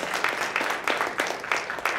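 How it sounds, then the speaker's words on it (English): A live panel audience breaks into a round of applause, a dense wash of many hands clapping at steady strength for two seconds, with no talking over it. "let's give her a round of applause"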